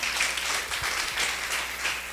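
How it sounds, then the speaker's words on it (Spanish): Applause from a church congregation during a Spanish-language sermon, a dense, steady patter of many hands filling the room for about two seconds with no voices over it. "Dale un aplauso al Señor."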